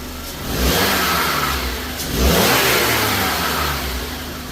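A car engine snapped open on the throttle for a test, revving hard twice in quick succession and dropping back between, loud and close with no talk.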